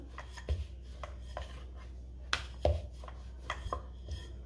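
Paratha dough being rolled out on a floured surface with a rolling pin, giving a series of soft, irregular knocks and rubbing thuds spread across the clip, close by, with no talking.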